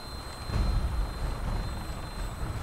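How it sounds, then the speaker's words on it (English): A helicopter flying overhead in the video game Fallout 4, a faint low rotor rumble swelling briefly and then holding steady in the distance. "That's a helicopter."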